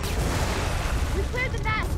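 Grenade blast in Gears of War 4 amid a chaotic firefight, a dense rumbling boom with continuous battle noise and short bursts; a voice is also present.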